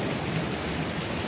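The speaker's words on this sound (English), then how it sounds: "Got a nice little thunderstorm" Steady, dense rain pours down during a February thunderstorm, forming a loud, continuous wash of noise with a low rumble underneath and no voices.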